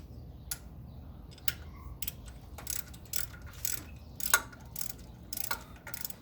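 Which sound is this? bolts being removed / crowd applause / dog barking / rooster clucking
bolts being removed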